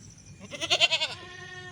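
A goat on a farm with newborn kids gives one wavering bleat, a quick series of pulsed, nasal cries lasting about a second, close and clear against a quiet background.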